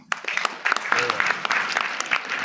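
An audience claps at a religious festival gathering in Kota, Rajasthan, with scattered, uneven claps that thicken into fuller applause and carry on throughout at moderate loudness.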